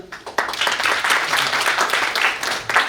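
An audience at a Kerala Samajam of Greater New York gathering applauds after the president's speech, with close, lively clapping that swells quickly and stays fairly loud and steady.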